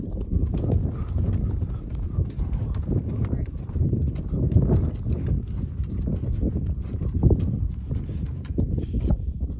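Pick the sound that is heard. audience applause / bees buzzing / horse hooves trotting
horse hooves trotting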